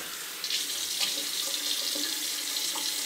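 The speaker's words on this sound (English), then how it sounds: "let's have a rinse, see how this went" A bathroom water tap runs steadily into a sink for a rinse after shaving, a close, even splashing hiss with a slight bump in flow near the start and no talk.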